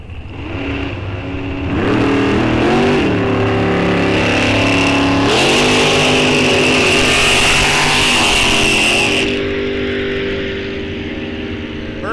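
A drag racing car engine roars and revs up hard against a throttle stop, climbing in pitch as it launches, then holds a loud sustained scream before easing off, at a raceway.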